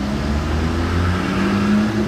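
A Mansory Rolls-Royce with an aftermarket exhaust drives past on a street, a loud, steady engine drone with a low rumble that holds throughout the short pass.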